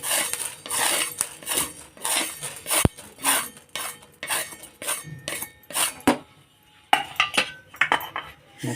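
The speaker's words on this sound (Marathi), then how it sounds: "ती पण भाजून घ्यायची मेथी" Whole spices, including fenugreek seeds, for homemade garam masala rattle and scrape in a dry pan, stirred with a utensil in repeated metallic clinks and scrapes, close and fairly loud.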